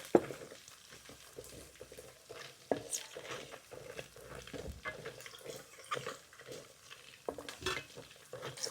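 Garlic frying in hot oil after ginger, stirred with a utensil for Kerala-style fish pickle, a soft continuous sizzle broken by irregular scraping and clinking strokes against the pan, close and fairly quiet.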